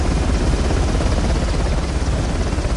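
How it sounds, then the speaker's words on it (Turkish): Steady, loud helicopter rotor and engine roar in the video game Uncharted, a dense broadband drone with continuous chopping that holds at a constant level throughout, with no talk over it. "Bak, bir de helikopter var başımıza."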